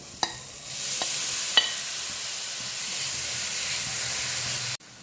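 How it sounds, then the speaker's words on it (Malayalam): Grated carrot roasting in ghee in a pan gives a steady, close sizzle with a few sharp stirring clicks near the start, running on alone until it stops abruptly at the end. "ഒരു ക്യാരറ്റ് ഗ്രേറ്റ് ചെയ്ത് വെച്ചിട്ടുണ്ട്. ഇത് നമുക്കിതിലോട്ട് നെയ്യിലോട്ടിട്ട് നന്നായിട്ടൊന്ന് റോസ്റ്റ് ചെയ്തെടുക്കാം."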